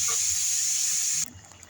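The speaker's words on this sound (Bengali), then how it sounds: "টমেটোটা কড়াইতে দিয়ে দিলাম।" Tomatoes dropped into a hot wok sizzle with a loud, bright hiss that holds steady for over a second, then cuts off sharply to a quiet background.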